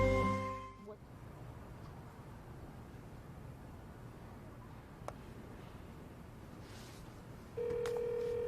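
A telephone rings indoors, with a short electronic ringtone burst at the start and a steady ringing tone returning near the end over a quiet room.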